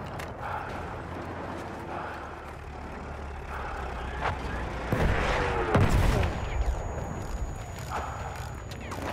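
A Battlefield 1 artillery barrage booms over a dense, rumbling battlefield din, with a heavier burst of impacts around the middle of the stretch.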